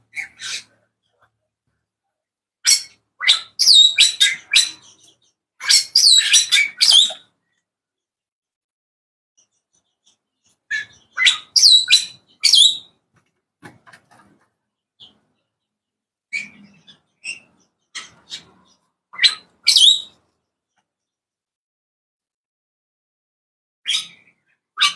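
Small birds in an aviary chirp and tweet in scattered short bursts, bright and fairly close, with quiet pauses between calls.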